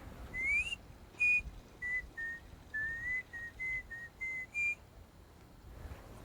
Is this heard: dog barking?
no